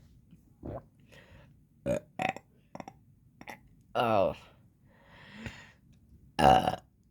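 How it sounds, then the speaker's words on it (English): Kids competing to see who can burp the loudest, with several short burps scattered across the stretch between talk and a long, loud belch near the middle. "they were amusing everybody with a game of who can burp the loudest"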